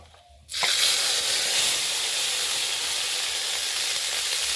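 Ground spice paste and onions hit hot oil already seasoned with whole garam masala, a dried chili, bay leaf and panch phoron, bursting into a loud, steady sizzle after a brief quiet moment and holding it unbroken.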